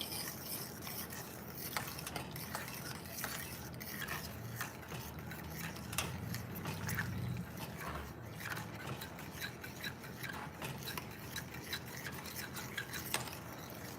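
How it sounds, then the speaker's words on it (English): Food is stirred in a pot during dinner cooking, heard as a quiet, continuous scraping and rubbing with light clinks, close and steady, with no talking. "Stir this up."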